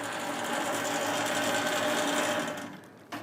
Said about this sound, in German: Und immer mal wieder braucht die Maschine ein bisschen Unterstützung.